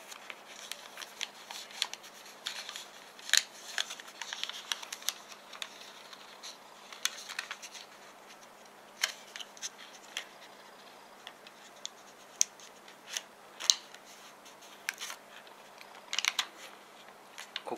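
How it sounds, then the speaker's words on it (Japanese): Origami paper is folded into a triangle and creased by hand, with soft rustling and scattered crisp clicks and taps close by in a quiet room. "この部分を三角形に折りたたんでいきます"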